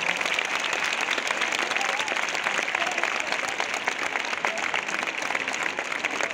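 Steady, dense applause from a large concert audience in Málaga during the band introductions, loud and continuous throughout with no break.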